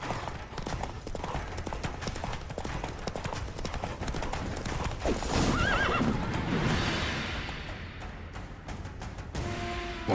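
Geralt's horse Roach gallops in The Witcher 3 video game, with a steady, rapid clip-clop of hooves and loud whinnying neighs amid a dense, busy game soundscape.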